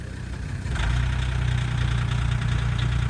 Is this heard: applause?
no